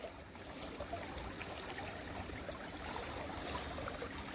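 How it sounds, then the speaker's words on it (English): A stream flows steadily, a faint continuous trickle and babble of water heard alone without voices. "after listening to the water flow"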